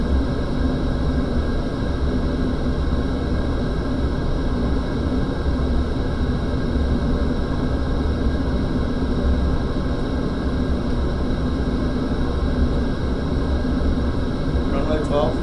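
Engines of a Boeing 777-200LR in a flight simulator on approach, a steady, broad roar holding at constant level throughout with no change in pitch.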